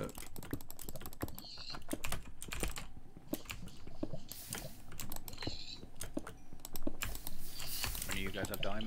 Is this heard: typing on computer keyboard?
yes